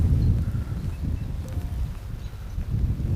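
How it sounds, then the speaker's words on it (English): Steady low wind buffeting on a river, heard from a fishing boat drifting downstream, a continuous dense rumble with no voices. "Wind is kind of pushing us downstream right now"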